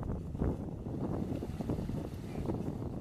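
A Sealine S28 Bolero motorboat engine drones steadily nearby on a river, mixed with wind buffeting the microphone and water noise, with no talking.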